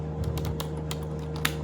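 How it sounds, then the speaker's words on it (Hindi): Fingers tap on a computer keyboard in a steady run of separate crisp key clicks, close and clear, with a low constant hum beneath and no voices. "बिल्कुल ध्यान से टाइप करते हैं"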